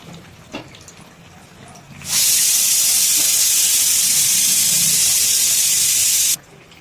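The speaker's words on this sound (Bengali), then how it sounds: "গ্যাসটাকে দেখুন এখানে আমরা প্রথমে জ্বালিয়ে নিচ্ছি" After a couple of soft clicks, a gas stove burner lights with a loud steady hiss that starts abruptly, holds for about four seconds, then cuts off.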